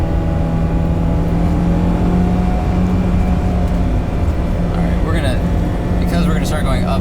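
A Mercedes 190E 2.3 16v four-cylinder engine pulls steadily uphill with a deep, constant drone heard from inside the cabin, loud and unbroken, with a faint higher rasp building toward the end.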